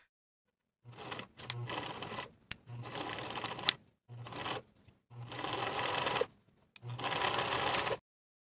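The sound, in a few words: sewing machine sewing welt pocket pieces together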